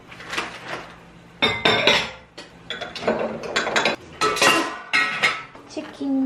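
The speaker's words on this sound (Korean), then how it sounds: "설거지만 얼른 하고 일단 좀 정리를 좀 할게요" Dishes being washed after an outdoor barbecue, with plates, pots and cutlery clattering and clinking in close, irregular bursts, interrupted by short pauses and running water.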